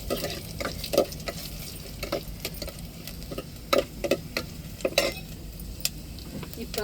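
Dried vathal sizzles softly in oil in a pan while a spoon stirs it, with scattered scraping clicks against the metal over a low, steady frying hiss.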